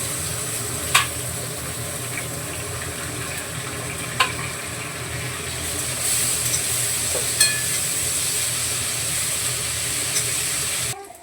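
Chopped onion frying in a pan gives a steady, loud sizzle that holds throughout, with a few sharp clinks of a spoon against the pan and a slight swell in the hiss partway through.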